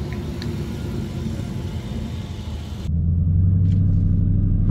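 A 2019 Dodge Challenger on Nitto NT05 drag radials launching down a quarter-mile drag strip, a loud steady engine rumble that jumps to a heavier, deeper roar partway through, heard from up close with no talk.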